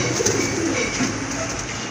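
Fancy crested pigeons kept for sale coo softly in a short burst of low, throaty calls, fairly close, against a steady background hum.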